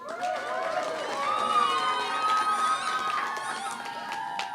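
A crowd with many children cheers and shouts outdoors at a Greek flag raising ceremony at Lowell City Hall, a moderate, sustained wash of raised voices and whoops.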